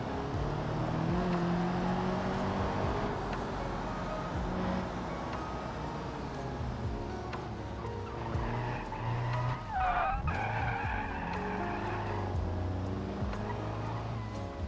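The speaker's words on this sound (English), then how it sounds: "Do like little handbrake taps around these corners to help turn in." A car in the BeamNG video game skids through handbrake turns, its engine drone running under long, loud tire squeals and scrubbing slides that rise and fall across the stretch, with no voices.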